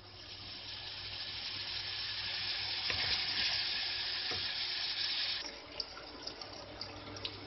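Onion sizzles and fries with lamb meat for an Egyptian okra stew, a steady close hiss with stirring scrapes, followed by a few brief clinks and knocks.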